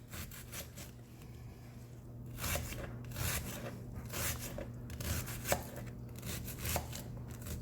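Onions for vegetable soup are chopped on a board with a knife, a steady series of soft, evenly spaced thuds, close and fairly quiet, with no talking.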